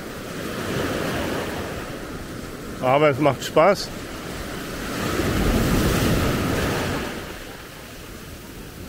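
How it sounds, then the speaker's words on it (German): Atlantic storm waves at Maspalomas, Gran Canaria, crash and wash in steadily, with a surge of breaking surf midway; a person briefly speaks over the rushing water and wind. "Hier durch diese brechende Welle."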